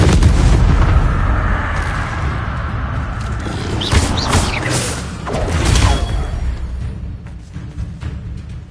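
Spell combat in the wizarding game Hogwarts Legacy, the Incendio fire spell cast amid loud, dense rumbling blasts and whooshing bursts, a continuous roar with several sharper flares toward the middle; no talk.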